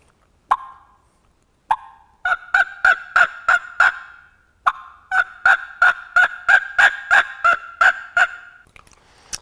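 A mouth call imitates wild turkey sounds: two sharp isolated clucks, then rapid rhythmic runs of plain hen yelps in two loud, close series, with a short gap between them and no talking.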